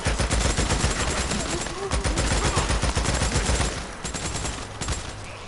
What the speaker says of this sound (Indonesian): Si Sarah main nembak-nembak aja loh.